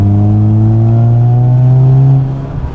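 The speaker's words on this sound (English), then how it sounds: "It's just like a nice sound, like nice toned exhaust." A Mazda RX-7 FC3S Turbo II with a new exhaust accelerates, its engine note climbing in a smooth, loud, toned drone heard from close by, then easing off and dropping away near the end.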